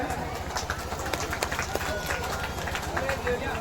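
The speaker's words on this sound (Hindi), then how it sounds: "एक बार आप लोग भी जोरदार तालियों से अभिनंदन करें" A wedding audience applauds vigorously, dense steady clapping that runs throughout with voices mixed in.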